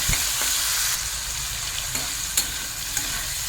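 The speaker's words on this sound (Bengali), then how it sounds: "এখন আমি চিংড়ি মাছগুলো মধ্যে দিয়ে ছেড়ে ছেড়ে চিংড়ি মাছটা একটু ভেজে নেব" Steady crackling sizzle of shrimp frying in hot oil, with a few soft clinks of stirring and no talking.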